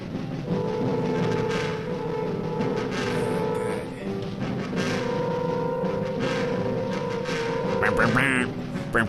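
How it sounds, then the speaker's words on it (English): Orchestral score from the 1959 film Plan 9 from Outer Space with nasal, duck-like quacking tones, loud and sustained for several seconds with steady held notes and no talk. "Sounds like Donald the Duck."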